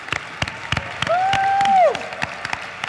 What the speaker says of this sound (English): I would like to give you guys a round of applause for being our future and doing the right thing for the environment